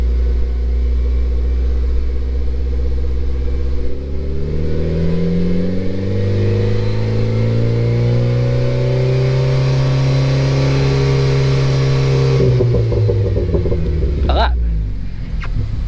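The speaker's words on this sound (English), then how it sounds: "I'll put my foot down slightly on the gas, I'll just raise the throttle a little bit. And as I flick through them, you'll hear the car change." A Renault Clio RS engine holds steady revs under light throttle, its tone rising and falling in smooth harmonic sweeps as drive modes change, loud and close, ending with a few clicks.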